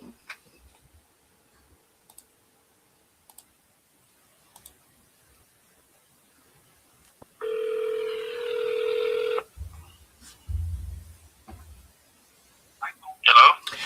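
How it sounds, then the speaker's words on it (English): Phone dialing on a call sounds as several faint single clicks, then a two-second sustained ringback-style tone, followed by low thumps and a brief louder burst near the end. "let me see if I can get them on the phone again"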